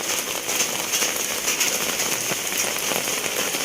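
Steady rain pours down on an outdoor fish market, a dense, even hiss of drops pattering on umbrellas and surfaces that holds at the same close, moderate level throughout, with no voices over it.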